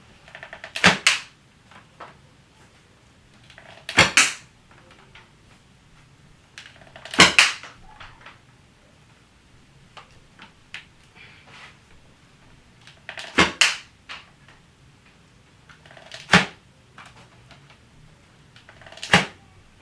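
A toy bow firing foam darts, heard as six sharp, separate snaps spaced a few seconds apart over quiet background.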